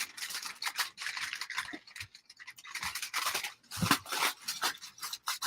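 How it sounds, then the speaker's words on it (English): Aluminum foil being folded up by hand, a series of quiet crinkling and scraping bursts in an irregular rhythm, close and soft, with short pauses between handlings. "I'm going to fold up this foil right here so that it doesn't intrude."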